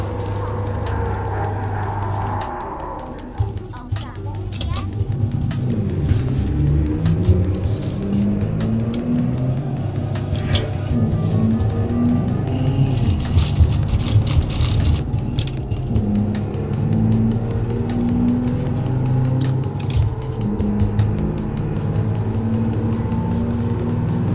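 Truck engine droning steadily while cruising on a highway in Euro Truck Simulator 2, a loud continuous rumble with a gear shift and rising revs early on, carrying on without pause.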